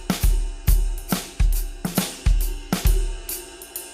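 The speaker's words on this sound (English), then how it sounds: "we're playing all the eighth notes on snare or the quarter notes on bass drum." A drum kit plays a steady groove of eighth notes on the snare with quarter notes on the bass drum, close and punchy, with even, repeating hits throughout.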